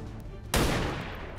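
A single sniper rifle shot in the XCOM 2 video game rings out as one sudden, loud crack with a long, rumbling tail that slowly fades.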